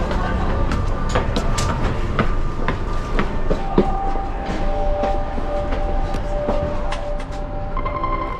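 Passenger train riding on rails in Europe, a steady loud rumble filling the cabin with rhythmic clickety-clack beats, squealing metallic tones and hum heard from inside a carriage; voices murmur faintly beneath.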